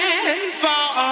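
Chopped vocal samples from a drum and bass track, a brief stretch of processed, pitch-sliding vocal syllables heard alone and fairly loud with no drums beneath.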